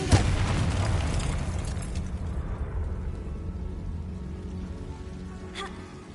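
A Confringo spell blast in Hogwarts Legacy: one loud, near boom at the start that rolls off into a long, fading rumble, with no talk.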